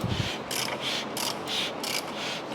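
Crankshaft of a rebuilt Range Rover SVR engine turned slowly by hand, giving a repeating mechanical ratcheting whir in regular pulses, close and steady, with no talking.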